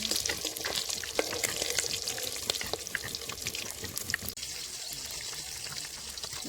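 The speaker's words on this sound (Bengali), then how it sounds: "আমার মাছগুলো কি সুন্দর ভাজা হয়ে গেছে, পুরো লাল লাল করে ভেজে নিয়েছি" Pieces of a large 1.5 kg grass carp fry in hot oil, giving a steady, dense sizzle with occasional spatters and stirring throughout.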